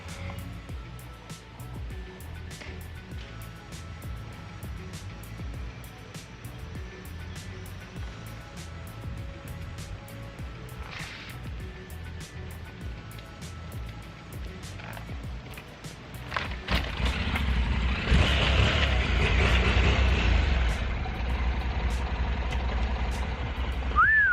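A Honda NC700X motorcycle with a weak battery rolls along before being bump-started by dumping the clutch. Quiet road and wind noise come first, then the engine suddenly catches and a loud, sustained rumbling roar takes over until the end.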